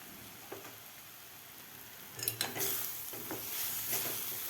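A spoon stirs cauliflower bhurji in a pan after it has cooked covered for several minutes on low heat. Scraping and clinking start at about two seconds, over a soft sizzle that runs underneath.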